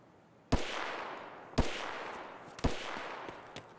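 Three loud gunshots in a shooting video game, evenly spaced about a second apart, each a sharp crack followed by a long echoing tail, with no talking.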